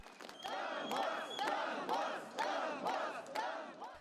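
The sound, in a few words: crowd of pro-Russian protesters marching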